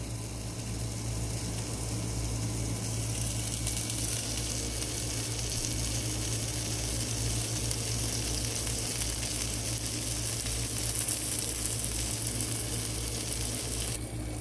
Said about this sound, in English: You can see how the cheese melted and how it's sizzling in the pot.